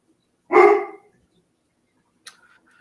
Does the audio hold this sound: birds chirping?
no